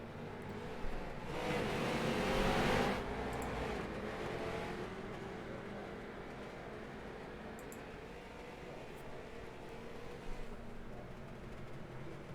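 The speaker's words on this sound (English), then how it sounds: "there it goes, the pace car" Pace car pulling away at Lanier National Speedway in a sim racing game, a broad engine roar that swells over the first few seconds and then settles into a steady, fading drone as it moves off.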